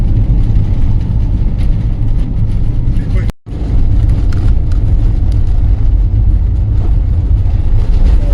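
An old Berliet truck drives by on the R107 mountain road in Morocco's Anti-Atlas, a loud continuous low engine rumble that briefly drops out and then returns; someone talks over it.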